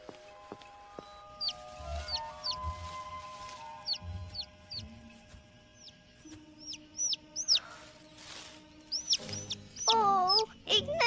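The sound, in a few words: small bird chirping in a cartoon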